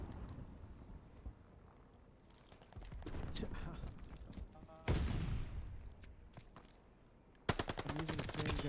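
Call of Duty: Vanguard gunfire: short automatic bursts and sharp single shots, with a loud rapid burst at the end, over wind-like ambience and brief voices.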